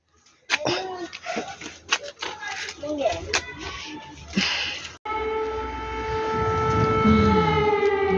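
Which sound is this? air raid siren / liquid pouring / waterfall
air raid siren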